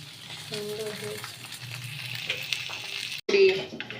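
Tilapia fish paturi cooks in a pan with a soft, steady sizzle and light frying crackle, close and moderate in level, while a person talks over it.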